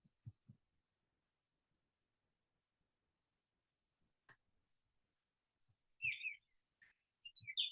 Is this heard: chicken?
no